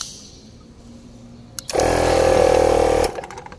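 An air locker compressor kicks on during a remote control test, running loud and steady for about a second and a half with a buzzing motor hum, then cutting off abruptly.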